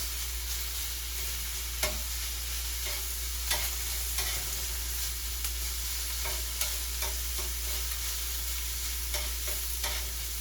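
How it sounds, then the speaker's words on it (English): Steak seasoned with pepper and cumin tossed with vegetables in a pan, a steady low sizzle over a constant hum, punctuated by regular scrapes and taps of a utensil, no voices. "Now the pepper and cumin on the steak, mixing with the vegetables."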